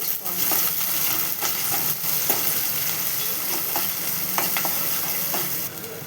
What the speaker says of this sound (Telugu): అవి వేగినాక ఉల్లిపాయ, పచ్చిమిర్చి, కరివేపాకు వేసేసుకోవాలి.